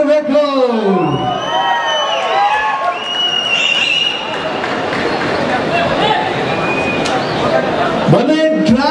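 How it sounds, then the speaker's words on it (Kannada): A crowd at a Kannada film event cheering and applauding as an actor is called onto the stage, loud sustained clapping and whoops, with someone speaking over a microphone at the start and end. "ಬನ್ನಿ ಡ್ರ್ಯಾಗನ್ ಮಂಜು ಚಪ್ಪಾಳೆ."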